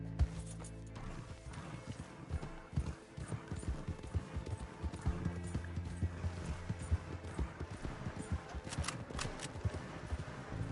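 A horse in the video game Red Dead Redemption 2 moves along with a steady run of hoof clip-clops, soft and fairly close, over a mix of game sound.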